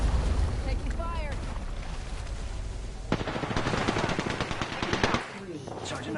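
Video game gunfire on a PS4: rapid machine-gun bursts and repeated shots that pick up in the second half, over wind-like rushing noise and a game voice.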